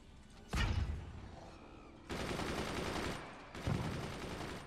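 Three sharp video game gunshots go off, each a sudden loud burst that lingers with a noisy tail, spaced about a second or more apart.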